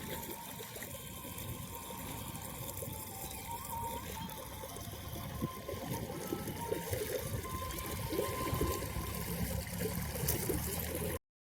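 Irrigation water flows and trickles steadily through a wheat field for several seconds, a continuous gurgling rush close by that swells slightly toward the end.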